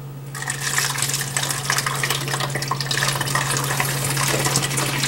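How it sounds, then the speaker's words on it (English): Filtered water pours through a funnel into a spray bottle in a steady, close trickling stream that runs continuously without talk, over a low constant hum. "using the same funnel, I have my filtered water from the Berkey system"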